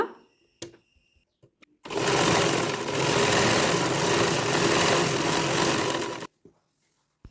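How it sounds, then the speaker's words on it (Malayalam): Sewing machine running steadily for about four seconds as a folded sleeve edge of fabric is stitched, a loud continuous whir that starts and stops abruptly with quiet handling noise before and after. "എന്നിട്ട് ഒന്ന് മടക്കി ഇതുപോലെ സ്റ്റിച്ച് ചെയ്ത് എടുക്കുക."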